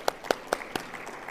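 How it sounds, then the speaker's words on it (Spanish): Audience applause at an education panel event, heard as a few sharp, separate claps spaced through a short, quiet stretch rather than a full ovation. "también para la cual pedimos un fuerte aplauso"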